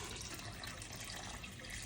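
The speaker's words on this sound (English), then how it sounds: "I'm now going to add in 8 cups of cold water." Cold water pours steadily into a cooking pot of potatoes, a continuous soft splashing rush that stays even throughout.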